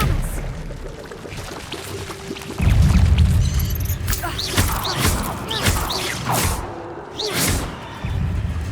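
Expelliarmus, the disarming spell in Hogwarts Legacy, heard as a sudden heavy whooshing blast followed by a series of sharp magical crackles and thuds, loud and close amid game ambience.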